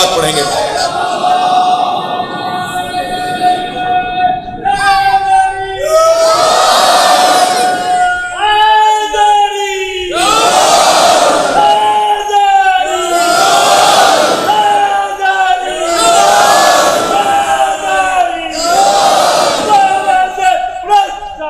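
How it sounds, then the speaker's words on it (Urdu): A large crowd at a religious sermon gathering recites salawat loudly in unison, coming as about five strong chanted bursts separated by short pauses, with voices filling the space. "بلند تر صلوات پڑھیں گے۔"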